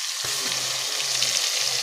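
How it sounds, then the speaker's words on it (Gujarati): Ground onion gravy fries in a pan with green chillies for panchkuti dal, giving off a continuous, close, even sizzle with faint low bubbling underneath and no speech. "આપણે એને પાંચ દસ મિનિટ લઈએ તળવા દઈશું જેથી કરીને ડુંગળી ગોલ્ડન બ્રાઉન થાય"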